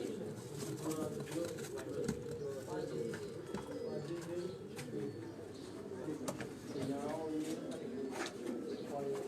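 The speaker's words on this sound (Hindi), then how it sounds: "ये छत वाला कबूतर है, ये अकेला है।" Rooftop pigeons from a Sialkot loft coo in low, rolling repeated phrases, close and continuous, while someone talks over them.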